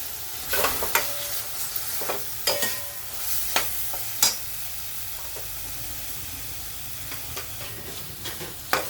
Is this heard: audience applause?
no